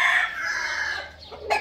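A male fighting-breed game rooster on a ranch crows once, close and loud, the drawn-out call tailing off before a short clucking note at the end.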